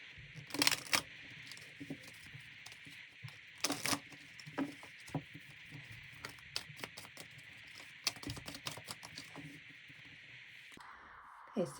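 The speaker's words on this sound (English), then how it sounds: "I'm going to do a little bit of shuffling." Tarot cards shuffled by hand at close range, with bursts of riffling and sharp card snaps scattered between quieter rustles and soft handling noises.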